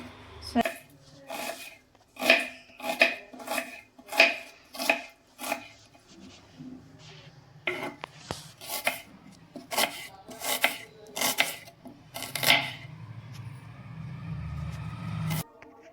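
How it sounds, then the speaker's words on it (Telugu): A knife chops onions on a cutting board for Maharashtra-style poha, with steady rhythmic chops close by and someone talking over some of them, followed by quieter scraping and rustling. "సో పోహా కోసం మనమైతే ఈరోజు ఫస్ట్ ఆనియన్ కట్ చేసుకుందాం"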